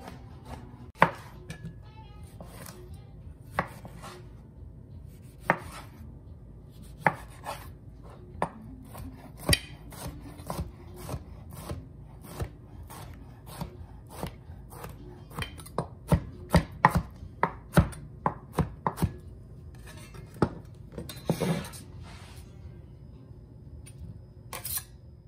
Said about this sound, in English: So I'm just gonna keep cutting my tomatoes.